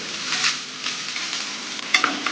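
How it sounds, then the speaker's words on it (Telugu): Fresh grated coconut fries in ghee while being stirred, a close, steady sizzle with scraping strokes of the spoon against the pan recurring throughout. "ఈ నేతిలో పచ్చి కొబ్బరి బాగా వేగాలండి"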